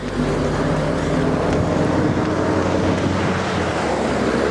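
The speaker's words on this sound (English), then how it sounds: "This is the Tbilisi River." Tbilisi river water rushing at night, a steady broadband roar with strong low rumble and wind buffeting the microphone, continuous and loud with no voices.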